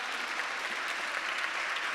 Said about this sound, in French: On vous applaudit, Stéphane.